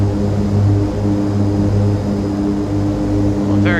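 Propeller airplane in the FsPassengers flight simulator, flying at about 140 mph with gear down and flaps 10 on a shallow descent; a loud, steady engine drone with a droning harmonic hum holding throughout.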